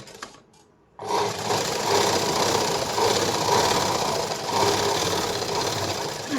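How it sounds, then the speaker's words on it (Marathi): A sewing machine stitching the lining of a paithani saree blouse starts after a brief quiet moment and runs steadily as a loud, continuous motorized whir and rattle close by. "तर अशा पद्धतीने आपल्याला एक शिलाई मारून घ्यायची."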